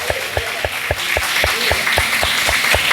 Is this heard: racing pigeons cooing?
no